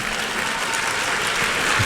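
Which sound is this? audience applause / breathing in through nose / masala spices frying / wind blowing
audience applause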